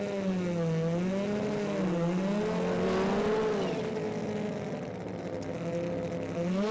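A drag racing car launches hard with heavy tire spin at the Garrett Brisbane Jamboree, a loud, sustained engine roar that wavers in pitch across the whole stretch and dips slightly near the end.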